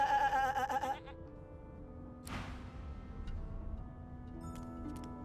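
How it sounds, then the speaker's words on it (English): A single sheep bleating in Divinity: Original Sin 2, one short wavering bleat at the start, followed by quieter ticking and ambient game sounds. "Shaking her fluffy coat, the sheep eyes you balefully"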